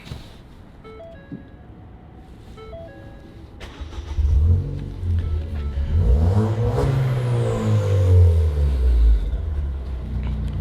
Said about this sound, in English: Let me start it up so you can hear it.